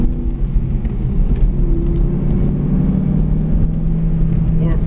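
A 2001 Ford Mustang GT's 4.6 V8 drones steadily from the cabin while accelerating in fourth gear, holding a low, even rumble with a slight rising whir, no gear change, continuous throughout.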